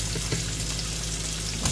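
Garlic frying in hot oil in a pan, a steady dense sizzle throughout with faint stirring clicks, close and continuous, no talking.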